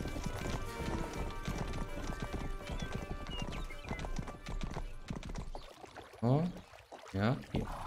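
Rhythmic clip-clop of horse hooves trotting at a steady pace in the video game Rustler, followed near the end by a couple of short whinny-like bursts.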